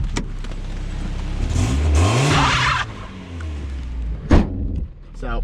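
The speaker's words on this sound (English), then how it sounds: "So if I just dump it, I'm doing a one wheel peel." A Mazda Miata with a seized rear right caliper does a one-wheel peel, the engine revving hard as the tire briefly squeals and scrubs, followed by a sharp clunk and someone talking nearby.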